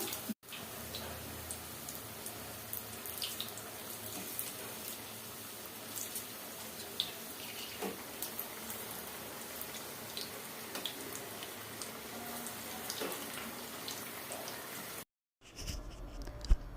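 Mirchi bajji, batter-coated chilli fritters, fry in oil on a low gas flame with a soft, continuous sizzle and faint scattered crackles. It is quiet and steady, with a brief drop-out near the end.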